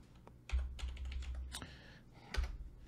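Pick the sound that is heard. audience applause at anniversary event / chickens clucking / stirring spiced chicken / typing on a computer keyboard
typing on a computer keyboard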